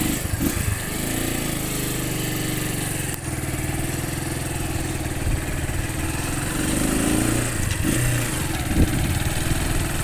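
A Honda CR152 motorcycle engine, freshly filled with synthetic oil, runs with a steady mid-pitched putter and occasional small revs, close and continuous with no talking over it.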